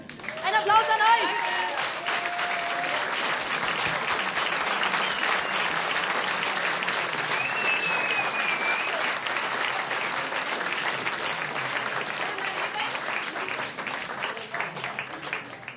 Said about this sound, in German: Ein Applaus an euch.